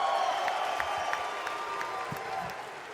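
An esports crowd at a Call of Duty League championship event in Texas fills a large arena with a steady roar of cheering and applause, with a voice over a loudspeaker faintly above it.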